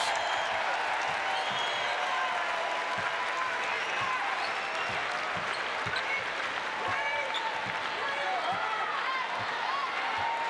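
Women's college basketball crowd at Iowa cheering in approval of a dribbling display, a sustained murmur and applause with sneaker squeaks and ball bounces beneath, while a commentator talks over it.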